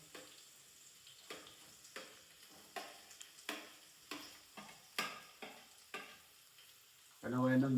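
Chopped onion hissing in hot oil in a pan for a Gujarati tempered yogurt dish, with a steady string of sharp scraping stir strokes at a brisk rhythm, close and moderately loud, ending in a louder burst of sizzle.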